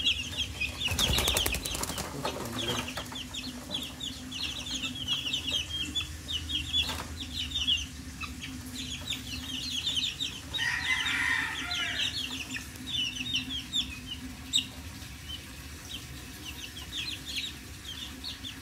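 Young chickens of a McLean cross with grey hatch lineage cluck and chirp in soft, scattered bursts around a yard, with a brief flurry of flapping wings and occasional crowing in the background.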